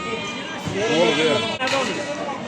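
Lambs bleating at a livestock sheep market in Beylagan, several overlapping calls close by amid the hubbub of a crowd, with people talking throughout.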